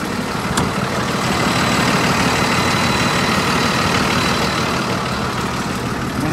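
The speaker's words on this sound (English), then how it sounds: "Got the Cummins diesel engine in it." Cummins diesel engine idling in a 2016 Grech GM40 bus, a steady, loud, close low rumble with an even throb and no voices.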